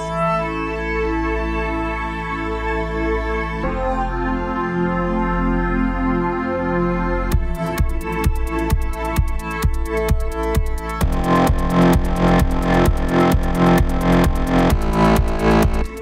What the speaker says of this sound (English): So here I have a pad sound just for you.